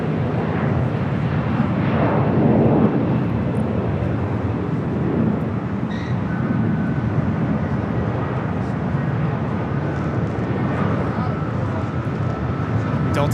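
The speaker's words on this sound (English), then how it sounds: "2337 coming in from Kansas City on the A319" Delta Airlines Airbus A319 arriving from Kansas City at Los Angeles International Airport, a broad loud jet roar that swells early then holds steady, while a person talks nearby.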